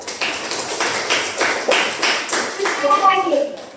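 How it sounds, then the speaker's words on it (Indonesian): Several people clap together in rhythmic bursts, the claps close and lively, with voices rising near the end. "Oke, tepuk tangan dulu."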